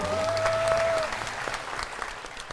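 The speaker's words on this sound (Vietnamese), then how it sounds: "Lời chào nghe có đã xin quý vị vỗ tay" Studio audience applause, loud and sustained throughout, opening with a brief held musical tone before the clapping thins slightly toward the end.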